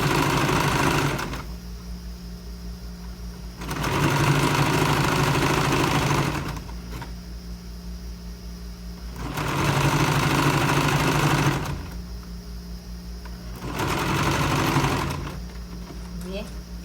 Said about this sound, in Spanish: yo ya he cosido todo a lo largo de la botonadura